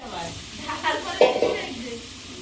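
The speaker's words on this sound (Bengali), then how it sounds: "চুনো মাছগুলো ভাজা হয়েছে" Small fish frying in a pan, giving a steady soft sizzle with a few brief spatters and stirring sounds, heard close up.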